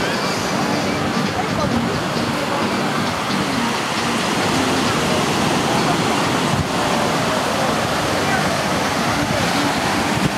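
Tyrrhenian Sea surf off the coast of Sicily in September: a loud, continuous broadband rush of breaking waves that holds steady with no pauses, heard close.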